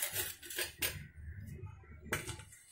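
A metal sieve is lifted out and set down in a home kitchen while chocolate cake batter is being made, giving a few close, clattering knocks of cookware and utensils with short pauses between them.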